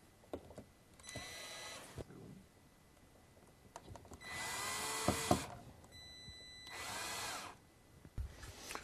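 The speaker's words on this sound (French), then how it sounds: "maintenant je vais pouvoir les visser complètement grâce à ma visseuse." A cordless screwdriver drives screws into plastic wall plugs while a smoke detector is mounted, giving three separate whirring bursts of one to two seconds each, close and fairly loud, with quiet handling gaps between them.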